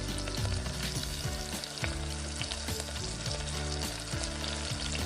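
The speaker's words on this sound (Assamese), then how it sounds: "ভাজি লৈ পেলাই অকণমান ৰঙচুৱা কৰি ল'লোঁ পিঁয়াজখিনি" Onions and chillies fry in oil, a strong continuous sizzle close up with repeated stirring strokes scraping the pan, and no voices.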